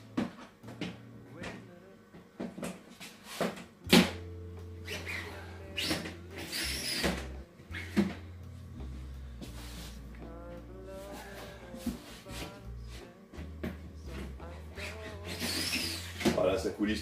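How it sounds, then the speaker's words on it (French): Drawers sliding into aluminium racks: a series of rubbing, scraping slides and sharp knocks at irregular intervals, with someone talking between and over them. "Voilà, ça coulisse tout seul, c'est nickel."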